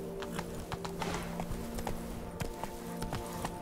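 Roach the horse's hooves galloping in The Witcher 3, a steady rhythmic clip-clop of repeated close impacts running throughout, alone with no talk.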